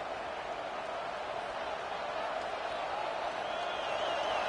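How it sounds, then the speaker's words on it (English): A packed football crowd at Autzen Stadium during an LSU versus Oregon game roars in a sustained, broad wash of noise that swells slightly toward the end. "The roar of the crowd trying to fuel this defense to keep them pinned in their own end."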